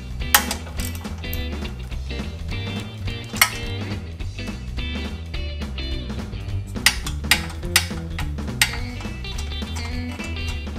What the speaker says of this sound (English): And then I need to put my 3/8 inch on, and we'll get these back bolts off.